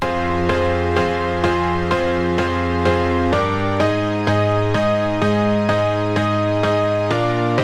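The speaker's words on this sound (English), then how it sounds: "that is a piano layer, Studio Grand preset" Sustained piano chords from a Studio Grand preset ring out in a steady rhythm, changing every half second or so, full and bright with no voices.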